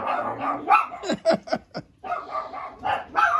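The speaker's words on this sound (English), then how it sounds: "Hush, dog, stop. Stop barking" Dogs bark close by in a burst of sharp yips and barks, mixed with whimpering sounds, amid busy indoor noise.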